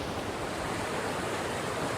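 A creek rushes over a ford crossing on a trail, its steady broadband wash of water close and continuous, with no voices.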